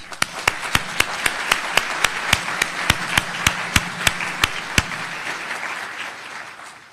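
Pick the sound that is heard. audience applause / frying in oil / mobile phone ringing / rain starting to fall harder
audience applause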